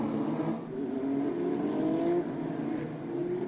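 A safety car circles a Formula Regional race track, its engine holding a steady mid-pitched drone that slowly rises in pitch, moderately loud and continuous with no voices.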